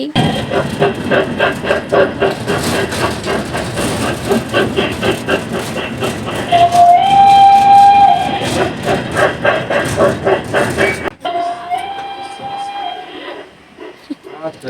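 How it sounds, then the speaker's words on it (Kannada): A small toy train rumbles and clatters along a short narrow track at the Hubli railway museum, sounding a couple of horn toots, with people talking over the running noise. "ನಾವೀಗ ಟಾಯ್ ಟ್ರೈನ್ಯಾಗ ಹೋಗ್ತೇವಿ"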